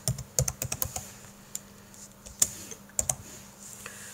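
Computer keyboard typing, close and fairly quiet: a quick run of key clicks, a pause, then scattered single keystrokes.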